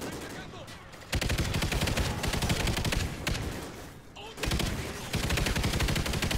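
Automatic gunfire in the Call of Duty: Ghosts mission "Severed Ties", dense rapid bursts that run for long stretches with brief pauses, loud and close, under faint game audio.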